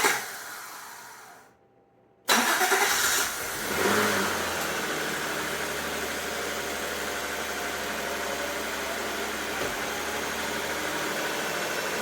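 Acura Legend engine, 1991–1995 model, starting for the first time after a head gasket repair: a quiet lead-in and a brief pause, then the engine catches abruptly and settles into a steady, close idle.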